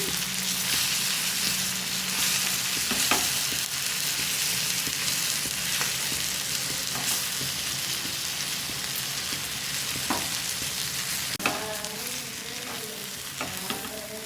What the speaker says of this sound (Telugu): ఫిష్ ఫ్రై అనేది బాగా ఫ్రై అయితే చాలా టేస్ట్గా ఉంటుంది అటు ఇటు ఇలా టర్న్ చేసుకుంటూ ఫ్రై చేసుకోవాలి